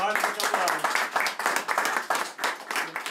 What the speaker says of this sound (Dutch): ik tevreden en hartelijk applaus